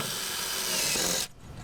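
A power drill drives screws into a deck board, a steady close whirring drone that stops abruptly after about a second, leaving quiet background.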